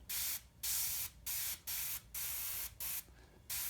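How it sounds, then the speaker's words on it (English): An airbrush sprays paint along the edge of a wooden hollow form in a series of about seven short, even bursts of close, steady hiss with brief pauses between them. "I'll make sure I spray the edge of it really well so that I get a"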